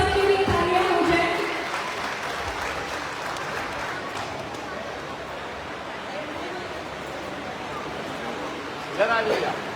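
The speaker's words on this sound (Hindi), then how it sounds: "एक big round of clap for everyone. सबके लिए तालियां हो जाए।" Steady applause fills a hall at an annual cultural program of the Brahmarshi Seva Samaj, clapping for performers including children, with crowd murmur underneath and a brief louder burst near the end.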